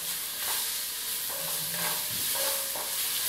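Garlic and ginger fry and brown in a pan for a Moroccan kurma stew, a steady moderate sizzle with occasional stirring scrapes and faint clinks.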